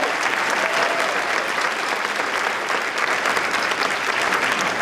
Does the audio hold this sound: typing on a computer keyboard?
no